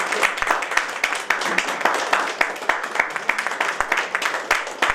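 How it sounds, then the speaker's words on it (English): Lively audience clapping at an international conference, dense, loud and continuous, with individual sharp claps standing out in the crowd. "Okay, the clap should again continue,"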